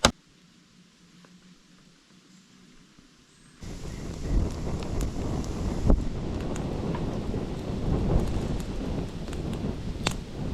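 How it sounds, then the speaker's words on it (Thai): Rain and strong wind sweep in during a storm while camping alone on a raised hut. The clip opens quiet, then the sound suddenly rises into a steady, rushing roar and patter with gusty swells. "ตอนนี้ฝนก็ได้ตกลงมาแล้วนะครับ"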